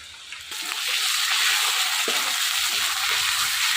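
Potato pieces sizzle in hot oil in a pan in a village kitchen, a steady bright crackle that starts softly and swells to a constant hiss with occasional stirring scrapes.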